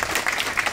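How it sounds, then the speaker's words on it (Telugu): Applause from an audience at a Telugu church gathering: a short, dense burst of many hands clapping together, steady and moderately loud throughout. "అందరూ చప్పట్లు కొడదాం ఒకసారి"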